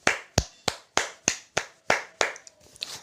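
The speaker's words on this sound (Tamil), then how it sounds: "பாடி முடித்ததும் அனைவரும் கைத்தட்டினர்." A run of about eight sharp, evenly spaced claps rings out alone at close range, followed by a few softer, quicker ones as a sound effect after a myna bird's song.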